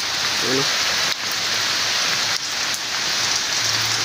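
Steady rain pours outside on a rainy day, a dense continuous hiss with a few brief dips, loud and close throughout.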